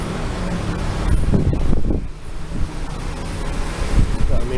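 Strong wind buffets the microphone in loud, rumbling gusts that rise and fall throughout, on an overcast day in Keelung, Taiwan.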